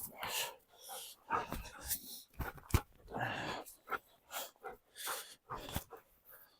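Quick, breathy dog panting in short bursts with snorts and soft whimpers, close by, while a person speaks intermittently over it.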